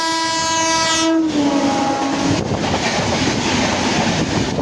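A loud train horn sounds with a steady harmonic blast, then drops away as the rumbling, clattering Belagavi–Bengaluru superfast express train rushes past close by.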